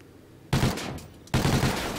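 Assault rifle fire in a shooter video game: two loud bursts of rapid automatic shots, the first about half a second in and the second after a short pause, each dense and sustained.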